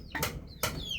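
Chickens clucking and squawking indoors in a rural stilt house, several close calls in short bursts with no one talking.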